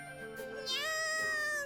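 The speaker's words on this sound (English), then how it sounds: "Ah, yes, very convincing cat sounds." Voiced cat meows from the video game Resleriana Academy, a short drawn-out whining mew that rises and holds, heard close and clear.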